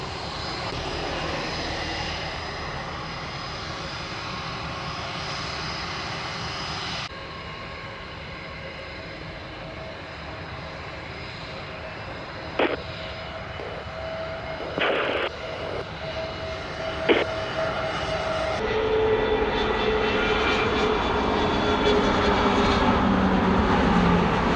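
Southwest jet airliner at Sangster International Airport in Montego Bay, Jamaica, a steady broad engine roar that holds for the whole span and swells louder toward the end, with a few brief clicks over it.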